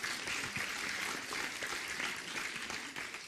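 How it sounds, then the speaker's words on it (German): Audience members at a panel discussion on feminism and reproductive rights applaud, a continuous, fairly faint spread of clapping from a roomful of people, steady from start to finish without speech. "Applaus"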